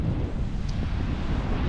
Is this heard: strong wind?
yes